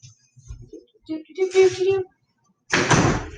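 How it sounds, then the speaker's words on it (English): A room door pushed shut with one firm, close thud that follows a stretch of murmured speech. "I'm gonna shut the door really quick."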